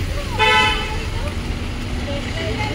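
An electric vehicle passes on a road, giving a short bright horn toot near the start over a steady low traffic rumble, with faint voices in the background.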